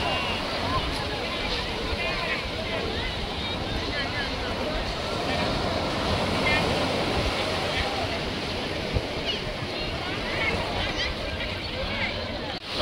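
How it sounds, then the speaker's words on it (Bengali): Large sea waves surge and break at Ganga Sagar, a steady loud roar of surf and wind across the whole stretch with a crowd murmuring faintly behind. "এই দেখ কি বড় বড় ঢেউ আসছে"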